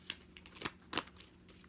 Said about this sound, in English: Okay, so I'm just shuffling the deck.